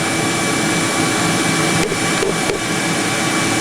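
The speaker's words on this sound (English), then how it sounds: "And I got the shop vac mounted off the floor" A shop vacuum mounted off the floor in a woodworking shop roars loudly and steadily from start to finish, with only a slight dip in the whine partway through and no talk.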